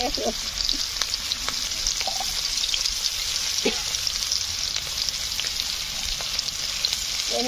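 Onion and garlic paste frying in a pan for a greens dish, a dense continuous sizzle with light stirring clinks throughout, close and fairly loud, without speech.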